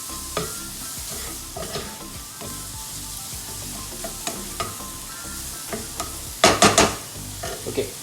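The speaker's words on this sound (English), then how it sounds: "our onions are also sauteing" Onions sauté in a hot pan, a close, steady sizzle broken by repeated spatula scrapes and stirring taps, with one brief louder clatter near the end and no talking.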